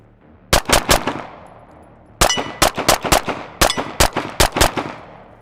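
Loud, sharp Glock pistol shots fired in fast groups of three to four during a back-and-forth shooting drill, each crack ringing out with brief gaps between strings.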